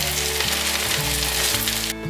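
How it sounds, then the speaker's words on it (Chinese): Eggplant slices pan-frying in a hot pan give a loud, steady sizzle close up, with faint stir and scrape noises and tonal music running underneath, ending with an abrupt cut. "这2个还没有很上色，等下再来翻面煎。"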